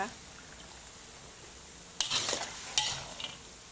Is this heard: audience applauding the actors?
no